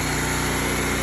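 A gas engine on a 4.7 gpm pressure washer runs at a constant high-pitched drone, loud and close, with no talking.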